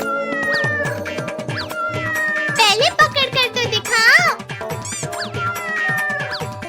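A cartoon cat meows repeatedly in a Hindi animated comedy, its cries rising and falling loudly over playful background music, with a voice speaking in between.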